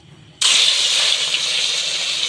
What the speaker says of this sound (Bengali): এখন আমি তেল গরম হয়ে গেছে, ভেজে নিচ্ছি মাছ।